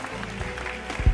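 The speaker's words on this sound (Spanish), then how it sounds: "Y un aplauso a la burriquita también" A short burst of clapping from a small group at a Christmas musical, soft and scattered, ending with a low thump.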